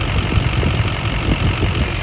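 A rebuilt Ford 6.0 Powerstroke diesel engine runs warm at idle, a loud, steady, rumbling clatter with a fast knocking pulse, close by and continuous throughout.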